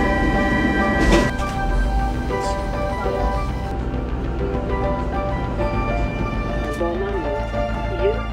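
A Stockholm subway train gives a continuous low rumble and hum, with steady tonal whine and occasional rattles and squeaks, while voices talk faintly in the carriage.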